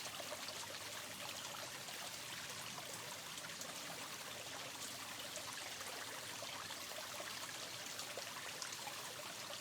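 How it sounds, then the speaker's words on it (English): Steady flowing water of a stream, a continuous gentle rushing and trickling that stays even throughout with no voices. "the sound of the water behind me"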